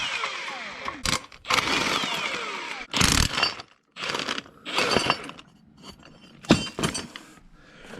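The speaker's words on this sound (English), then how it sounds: "We're gonna take off these motor mounts." Power tools and hand tools remove the motor mounts from the 5.7 Hemi engine of a Dodge Charger R/T, giving loud, irregular bursts of grinding and clanking with short pauses between them, and no talking.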